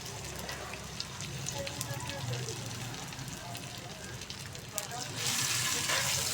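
Potatoes roast in ghee in a pan over low to medium flame, giving a steady close sizzle and crackle, with a brighter, louder hiss rising near the end.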